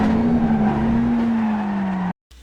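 A Mazda MX-5 race car at Laguna Seca in the iRacing game, a steady droning engine note held at near-constant pitch, loud and close, cutting off abruptly near the end.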